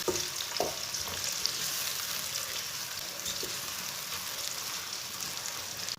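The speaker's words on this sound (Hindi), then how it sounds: "एक बारीक कटा हुआ प्याज डाल लेंगे। प्याज को ना 2-3 मिनट के लिए ब्राउन कर लेंगे।" Finely chopped onion sizzles steadily in hot oil in a pan, a continuous close crackle with occasional stirring clinks and no talk.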